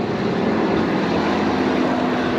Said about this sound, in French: Oh, le gros John Deere!